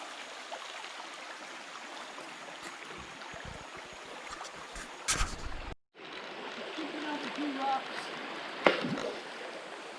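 Steady rushing water of Johns Creek, a North Georgia trout stream, flows throughout, a continuous wash of sound with a brief handling bump and a short dropout midway.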